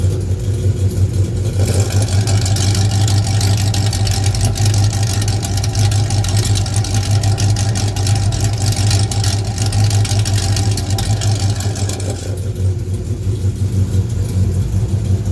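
A Ram R/T V8 with its exhaust cutout opened, a loud, steady deep rumble at idle that swells with a brief rev around the middle before settling back, close up and alone.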